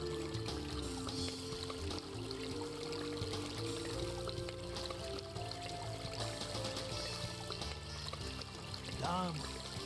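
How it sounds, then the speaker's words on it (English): Water pours into a glass in the Legend of Kyrandia: Malcolm's Revenge adventure game, a steady trickling stream heard faintly under the game's background music. "And now we can also fill the glass with water."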